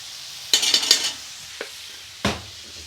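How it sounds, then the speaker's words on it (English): Patak's Balti paste frying in a pan for chicken tikka curry, with a quick series of stirring scrapes followed by two isolated clacks of the utensil against the pan over a faint background hiss. "Now you really want to fry that Patak's Balti paste off"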